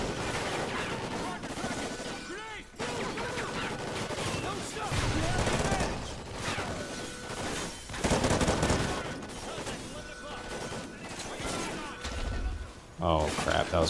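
Continuous rapid gunfire from the player's weapon in Call of Duty: Ghosts, loud repeated bursts with brief gaps, mixed with other battle noise throughout.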